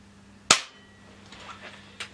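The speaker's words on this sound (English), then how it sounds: "let's shoot a third shot through the chronograph." An air gun fired through a chronograph: one sharp, loud crack, then faint rustling, and a second, softer click about a second and a half later.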